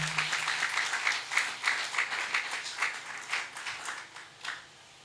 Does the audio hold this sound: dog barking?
no